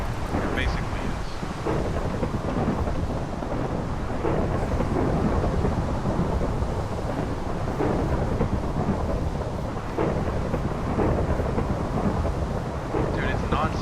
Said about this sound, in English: Okay, lightning struck right next to me.